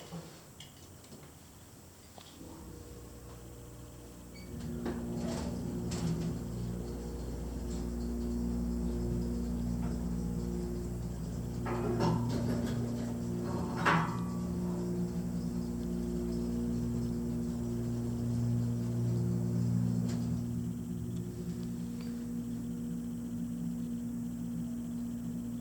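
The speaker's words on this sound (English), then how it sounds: "Wow, that motor is nice and quiet." A 1974 Otis hydraulic elevator motor runs as a steady, quiet low hum with faint tonal whine, continuous for most of the stretch after starting a few seconds in, with small clicks and rattles of the car over it.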